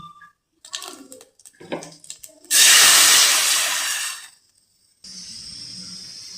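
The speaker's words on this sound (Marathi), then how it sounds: "आपण आता पाणी घालून घेऊया." Water hits a hot pot of oil and crackled cumin for rice, giving a loud sizzling hiss that lasts about two seconds and fades, after earlier small crackles and clatter, followed by a steady quieter hiss.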